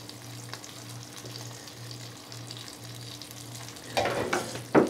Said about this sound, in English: Eggs are frying up nicely.